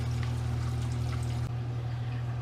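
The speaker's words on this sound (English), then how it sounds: "By opening them, water flows through and any excess air comes out of the pipe." Water flowing steadily through the pipes of a mercury manometer as red valves are opened to purge trapped air, a continuous close pouring rush with a low hum underneath that drops slightly partway through.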